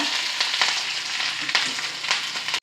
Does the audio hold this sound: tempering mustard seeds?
yes